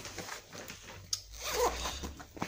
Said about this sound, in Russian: Замок работает отлично.